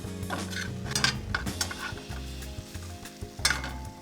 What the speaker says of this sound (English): take a couple sage leaves and hit those in here right now too